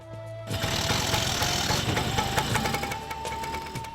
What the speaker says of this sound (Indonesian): Bajai versi lama berwarna oranye yang dibekali mesin 2 tak berkapasitas 150 cc dengan menggunakan 1 silinder